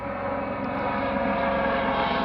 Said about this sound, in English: Some kind of plane or something.